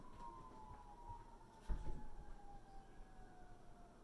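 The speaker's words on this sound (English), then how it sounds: "Oh, there's a lot of sirens." A siren wails faintly in the distance, its long tone slowly falling in pitch, with a brief thump of nearby noise partway through.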